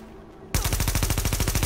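Rapid automatic gunfire from the video game Tom Clancy's The Division breaks out after a short quiet moment, a loud close burst of evenly spaced shots that keeps going to the end.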